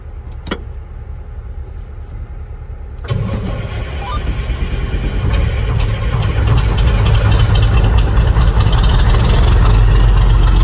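A farm truck's engine cranks and fires after a quiet rumble, then settles into a loud, steady idle that builds slightly and runs on close by without talk.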